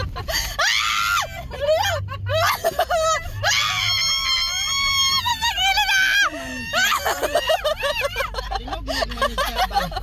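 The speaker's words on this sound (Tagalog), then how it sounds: "Puro sigaw na yan. Sige pa, sigaw pa." Passengers scream again and again during a desert dune bashing ride in Oman, loud and close. Shrieks and wails come in bursts, mixed with laughter and shouted talk over a low vehicle rumble.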